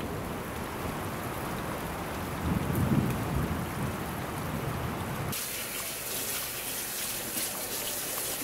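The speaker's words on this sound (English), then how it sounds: "look at this storm that's happening outside right now" Heavy rain pours steadily outside during a thunderstorm, with a low rumble of thunder swelling midway before the downpour shifts to a brighter, hissing wash. No one speaks.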